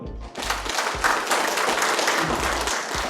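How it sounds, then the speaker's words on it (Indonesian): Steady applause from a crowd at a political rally, dense clapping that fills the whole stretch at an even, fairly loud level, with no talking over it. "Tepuk tangan dulu."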